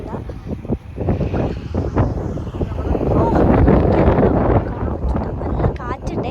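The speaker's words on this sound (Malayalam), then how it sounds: "നല്ല കാറ്റ്, അവിടെ നല്ല തണുത്ത കാറ്റ്." Strong cold wind on a hilltop above a carrot farm in Ooty: loud, gusting rumble buffeting the microphone throughout, with people's voices mixed into the blustery noise.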